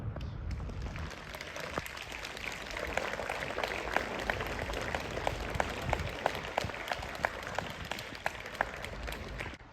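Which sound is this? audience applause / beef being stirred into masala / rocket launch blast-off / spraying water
audience applause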